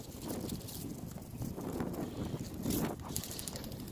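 Strong gusty wind blows outdoors in snow during a kite-like bird toy flight, a steady broadband rush buffeting the microphone with rough low-end noise throughout.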